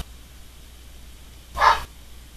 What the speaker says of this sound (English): And this idiot dog is barking.